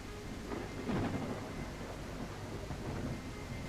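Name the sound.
rain and thunder in video game The Isle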